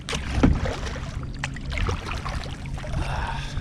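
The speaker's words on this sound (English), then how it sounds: "I'm gonna try and paddle right back to the top of that hole while I got my bait down there." Kayak paddle strokes dip and splash through the water, close and moderately loud, with a few irregular wet swishes and drips and no talking.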